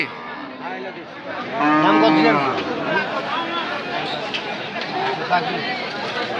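Cows at the Ambari cattle market in Dinajpur give a loud, drawn-out moo over a steady murmur of crowd chatter. Voices of buyers and sellers carry on throughout.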